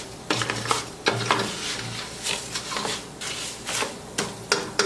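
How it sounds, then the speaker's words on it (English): Rice toasting in a pan for Spanish rice is stirred constantly, giving repeated scraping strokes with a soft sizzle underneath, close and fairly loud, with no voices. "You don't want to let it burn, so you got to make sure that you constantly stir it up."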